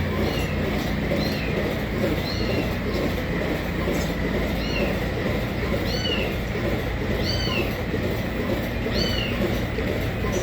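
A kitten in a barn during morning chores with dairy cows gives repeated high meows, several short cries spaced a second or two apart. They sit over a constant loud mechanical rumble.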